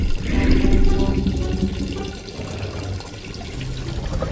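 Tap water runs steadily and fairly loud while a toy dinosaur is washed, a continuous splashing stream that swells and eases slightly throughout.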